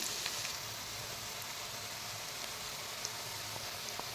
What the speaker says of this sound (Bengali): এবার পেঁয়াজটাকে ভাজতে দিই